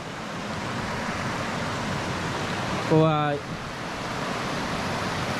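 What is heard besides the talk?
waterfall in Utah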